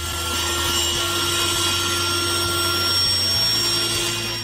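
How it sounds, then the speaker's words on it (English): A handsaw cuts through a wooden stair tread at an angle, giving a steady, continuous rasping under a constant mechanical hum, with no talk. "And of course, the classic handsaw."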